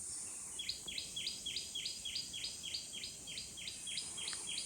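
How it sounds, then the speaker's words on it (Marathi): A bird repeats a rapid, high-pitched chirping call in a steady rhythm, fairly close, over a quiet hiss of insects in a forest. "हे आवाज जे येतात ना ते मजा येते पक्ष्यांचे."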